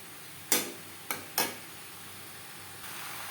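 Potatoes and young jackfruit stir-fried with spices in a pan over medium flame, with a faint steady sizzle and three short, sharp scrapes of a spatula against the pan, close, no talking.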